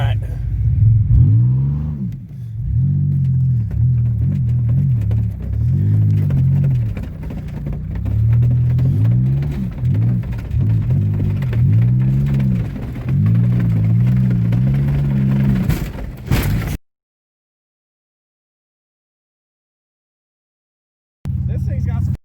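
A car with straight pipes and no muffler revs hard, its loud raw exhaust rising and falling in repeated bursts close by for about sixteen seconds before cutting to silence, then briefly returning.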